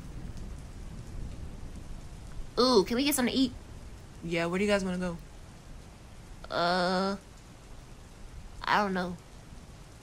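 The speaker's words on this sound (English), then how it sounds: "Oh, it's raining." Rain falls in a steady soft hiss throughout, while people talk over it in short bursts of conversation.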